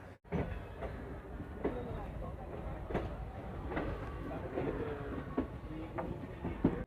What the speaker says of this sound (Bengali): তো বন্ধুরা ট্রেন আমাদের ছেড়ে গেল রামপুরহাটের চার নম্বর প্ল্যাটফর্ম থেকে